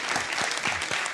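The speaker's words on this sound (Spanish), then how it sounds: "quiero pedir un fuerte aplauso para el doctor Humberto de la Calle" An audience applauds Humberto de la Calle at a discussion forum, a brief burst of dense, close clapping with no voices over it.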